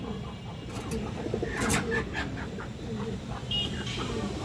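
Coos from a black female pigeon kept in a loft of fancy pigeons, soft and repeated under a steady, noisy background.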